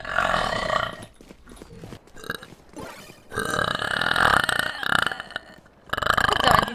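Loud, long burps, several drawn-out belches close to the microphone, separated by short quieter gaps, with a voice mixed in at moments.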